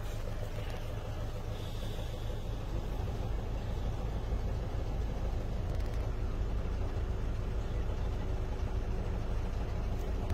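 Citroën Berlingo 3 engine running at a steady idle, a continuous low rumble heard from close by with no clear start and no voices.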